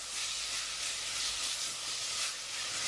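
Tomato, chili and onion fry in a pan with a steady, loud hiss of sizzling oil that holds unbroken from start to finish, with no voices.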